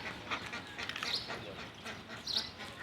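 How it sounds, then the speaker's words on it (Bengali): Ducks feeding on a quiet morning, giving soft nasal quacks and calls amid shuffling, pecking noise at close range; several short calls spread over a few seconds. "দেখেন হাঁসে খাবার দিয়েছে, হাঁসে খাচ্ছে।"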